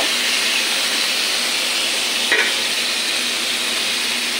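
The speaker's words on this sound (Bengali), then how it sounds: "মাছ আর ক্যাপসিকাম সবজিটা মিশে নিই।" Fish with capsicum, potato, onion and garlic sizzles and fries in a pan, a steady broadband hiss with one brief clink of stirring midway, no talking.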